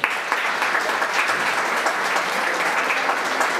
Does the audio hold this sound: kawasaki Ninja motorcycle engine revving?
no